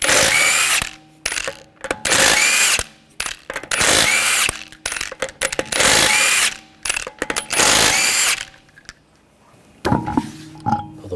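A power tool with a 19mm socket spins the wheel lug nuts off a 2013-2022 Buick Encore. Several loud whirring bursts of about a second each are separated by brief clicks and handling noises, close up and without speech.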